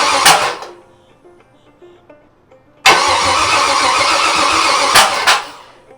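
A Chevy 350 small-block V8 on final assembly cranks briefly, pauses, then catches and runs loud and rough for a few seconds before dying down, close by with no talk.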